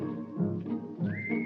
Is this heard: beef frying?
no